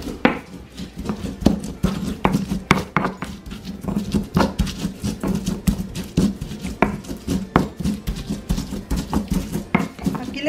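Chile and cilantro are ground in a stone molcajete, a steady run of close, sharp knocks and scrapes with a loose, quick rhythm, while a voice talks now and then.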